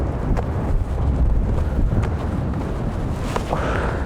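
Outdoor wind buffets the microphone with a steady, heavy low rumble and occasional gusty swells that last the whole stretch.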